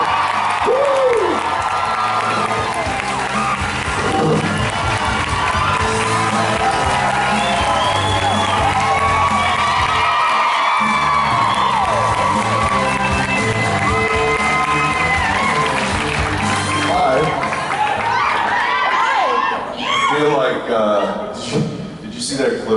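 A convention panel crowd for the Supernatural stars erupts in loud cheering, whooping, screaming and clapping, a dense roar that stays strong throughout with voices shouting inside it.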